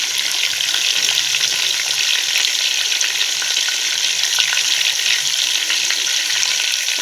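Large-cut bell peppers sizzle steadily in a frying pan while a Gilan-style barberry rice with chicken is prepared, a continuous close, bright crackle with no talk.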